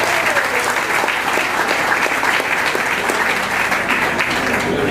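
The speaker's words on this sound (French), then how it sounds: "notamment Nicolas Netta, que je vous demande d'applaudir s'il vous plaît" A conference audience applauds in a dense, steady, continuous wash of clapping for the whole stretch, with no talk.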